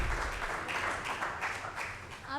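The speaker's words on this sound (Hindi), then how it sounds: "चलिए भूमि कौशिक के लिए जोरदार तालियां।" An open mic audience at the NTA Awards 2024 claps to welcome poet Bhoomi Kaushik to the stage, a steady, moderate round of applause with some rhythmic clapping under faint room noise.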